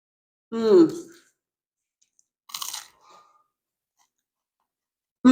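A crisp bite into a super-crispy grilled cheese sandwich made from frozen, with stringy melted cheese: one close, sharp crunch between brief vocal sounds, then quiet chewing.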